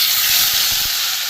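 Spice paste lands in hot oil with a fish head, bay leaf and dried chilli, giving a loud, close, sustained hissing sizzle with a few soft pops underneath.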